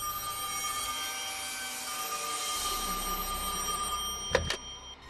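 A cartoon telephone rings at night with a steady electronic tone held over a quiet background, followed by a couple of brief clattering knocks at the close.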